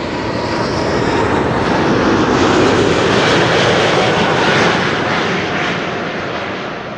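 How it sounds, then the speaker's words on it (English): An American Airlines Boeing 777-200 arriving at Amsterdam Schiphol from Dallas passes close and loud, a dense jet roar swelling to a peak midway and then easing off. "it is a 777 from American Airlines arriving from Dallas"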